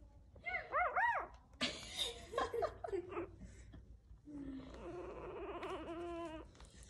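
High, wavering puppy whimpers and squeals come in short bursts, close by, with a longer whining cry near the end and some background noise.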